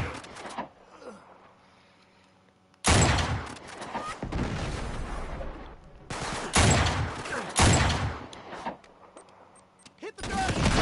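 Sniper rifle shots in Uncharted 3 gameplay aboard a cruise ship: several loud, sharp broadband blasts with echoing tails, spaced a second or two apart, over a quiet ambient background.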